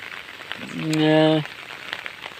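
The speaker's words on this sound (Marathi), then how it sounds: "आता पण लागतोय पाऊस पण जोरदार पाऊस जो लागतो ना तो आता दहा मिनटं कंटिन्यू पडत होता" Heavy monsoon rain pours steadily in the Konkan countryside, a dense, continuous hiss throughout, with a brief tonal call rising above it midway.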